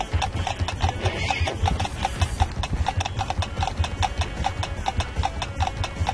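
Steady galloping clip-clop of horse hooves in the Slender Horse video game, a fast even rhythm running the whole time, loud and close, with no talk over it.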